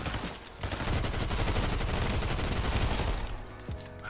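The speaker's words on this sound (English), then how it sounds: "I heard somebody shooting over here." Dense, loud gunfire in the video game Fortnite Chapter 5, a continuous overlapping volley of rapid shots and booms that tails off near the end.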